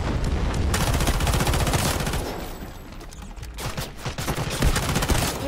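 Bot gunfire in the Delta Force: Hawk Ops shooter game: dense, loud automatic bursts and rapid shots rattling almost continuously, with slightly quieter and more scattered shots toward the middle.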